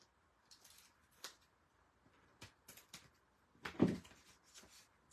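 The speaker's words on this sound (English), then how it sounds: "Then we can take our scissors" Quiet, scattered snips and crisp cutting sounds of scissors trimming paper in short bursts, with one louder clack partway through and otherwise near silence.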